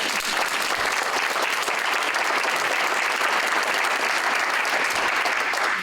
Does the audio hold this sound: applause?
yes